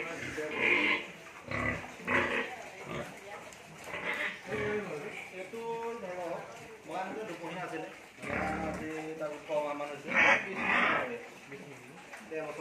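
Pigs grunt and squeal on a pig farm in Assam, bursts of animal noise repeating irregularly at moderate distance while people talk over and between them.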